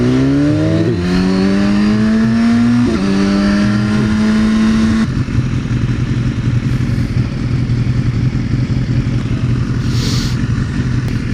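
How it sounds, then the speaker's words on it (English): Loud motor vehicles pass close by on a road, with a high rising and shifting engine whine in the first half giving way to a rougher, steady drone; no speech. "Come on, more riders, sports bikes"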